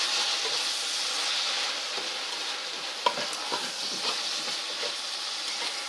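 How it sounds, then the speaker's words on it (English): Vegetables for lo mein being tossed in a hot pan, giving a steady, close sizzle and hiss with a few light clinks and scrapes as they are stirred. "you're going to want to toss that around so it wilts"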